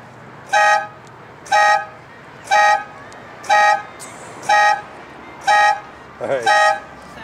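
A 2004 Saturn Ion's panic alarm sounds its horn in seven evenly spaced, loud, close honks about a second apart, with a brief faint voice slipping in just before the last one.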